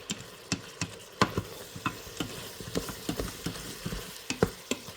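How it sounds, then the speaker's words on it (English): Diced whole onion sizzles in a pot for a sausage and potato soup while a utensil stirs it, giving a quiet frying hiss broken by regular scraping clicks and knocks. "This is 1 whole onion, diced. Let's mix that in."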